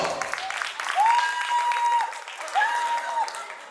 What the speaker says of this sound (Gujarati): તાળીઓ વગાડી શકો છો.